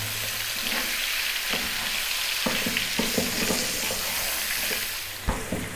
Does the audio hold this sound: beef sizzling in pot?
yes